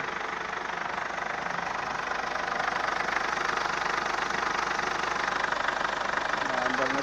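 Ford Everest engine running steadily after diagnosis work, a loud continuous mechanical drone with a knocking, rattly texture throughout and no letup.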